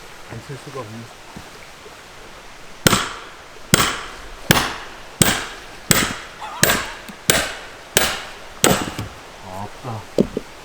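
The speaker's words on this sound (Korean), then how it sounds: "망치를 안 쓸 수가 없네." A hammer strikes hard to split firewood logs at a winter log-shelter campsite, giving eight sharp, evenly spaced blows about a second apart, loud and close, after a few seconds of low background sound.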